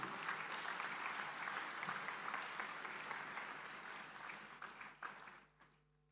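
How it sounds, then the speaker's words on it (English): A graduation convocation audience keeps up a sustained round of applause, a thick wash of clapping that holds steady and then thins out and fades to quiet at the end. "Continue the applause."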